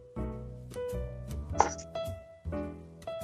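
A knife chops on a board in a few separate strikes, spaced unevenly over a steady sustained tone.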